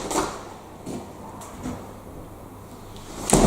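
A StormMeister flood door closes with a few soft knocks and a firm latching thump at the end, moderately near in a quiet room.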